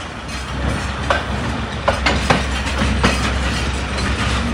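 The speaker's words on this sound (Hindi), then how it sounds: "उसके ऊपर से भी हमारी ट्रेन गुजरेगी।" The 246dn Malkwal Express runs in the early morning toward Victoria Bridge over the Jhelum, producing a loud steady rumble with irregular clacks of wheels over rail joints.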